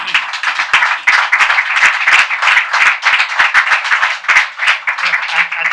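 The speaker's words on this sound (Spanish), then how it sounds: "Un aplauso, ¿no?" Close, loud audience applause at a book presentation, many individual claps distinct and dense in an indoor room, continuing steadily throughout.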